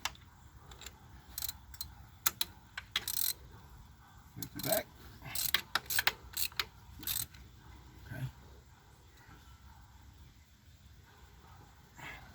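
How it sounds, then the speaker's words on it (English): A socket wrench clicks and ratchets as spark plugs are tightened on a 2018 Ford Mustang 2.3L EcoBoost, short bursts of sharp ratcheting in uneven clusters, close and fairly loud, then quieter handling noises. "now when it gets tight, then you want to put your socket on"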